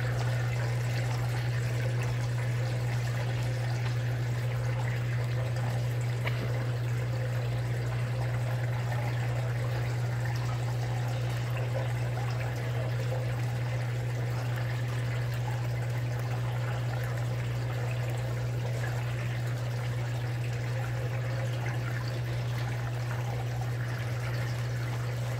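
Water from a hose fills a washing machine drum with a constant pouring rush over a steady low electrical hum. The sound holds unchanged for the full length, with no voices.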